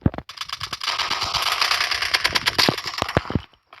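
Rapid bursts of gunfire from the online shooter game Polywar, dense rattling shots in quick succession, loud and close for most of the span before cutting off near the end.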